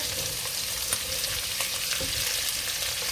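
Chopped onion, celery and pepper sizzle steadily in a hot pan over high heat alongside browning Dominican longaniza sausage, a continuous close frying hiss with a few soft clicks and no talking.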